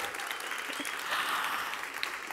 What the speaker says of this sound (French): des vrais applaudissements